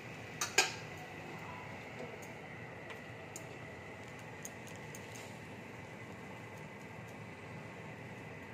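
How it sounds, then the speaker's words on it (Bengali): A fried soybean paratha is set down onto a plate with one short, sharp clink of dishware early on, followed by a quiet kitchen background with a few faint ticks. "এবার আমি থালার মধ্যে নামিয়ে নিচ্ছি।"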